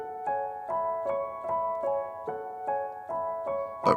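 A beginner piano pattern from a song is played slowly with both hands, about nine evenly spaced note strikes forming a steady repeating figure, close and unaccompanied.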